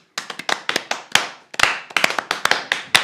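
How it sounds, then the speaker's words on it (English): Sharp hand claps ring out close and loud, some in quick pairs and others spaced apart, in an uneven rhythm keeping time to a worship song with no talking. "It's the clapping one."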